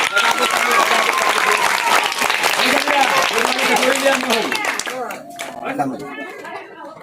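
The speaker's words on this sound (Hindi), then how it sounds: "जाओ सब लोग ताली बजा दो।" A village crowd gathered around a street madari performer claps in a dense, sustained burst, loud and close, while voices talk and call out over it before the clapping thins near the end.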